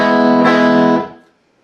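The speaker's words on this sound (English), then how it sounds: "They're just going to be hitting an E 6th string open and doing the rest of the lick." A single guitar strike on the open low E sixth string rings out with rich harmonics and fades away within about a second, alone and close.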